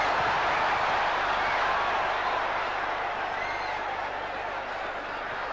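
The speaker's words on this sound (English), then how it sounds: "The crowd loving it." A boxing arena crowd roars and cheers in a dense, sustained wash of noise that slowly fades slightly, with a commentator talking over it.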